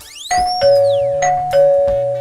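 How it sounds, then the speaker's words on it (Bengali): A cartoon doorbell rings with repeated ding-dong chimes, bright and loud, sounding several times in quick succession with a swooping tone at the start and no talking. "কেমনে কলিং বেল বাজাইতাছে, একটু দয়া মায়া নাই"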